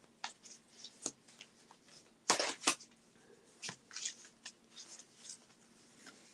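Tarot cards are shuffled by hand, giving irregular soft riffling and slapping bursts, with a louder flurry partway through, close and alone over a quiet room.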